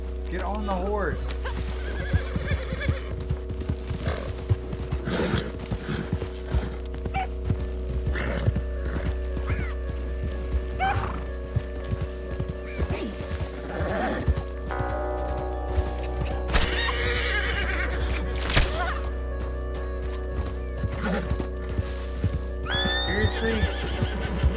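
A horse in the video game Red Dead Redemption 2 Online whinnies repeatedly amid steady clip-clopping hooves, with voices talking throughout over a constant background hum.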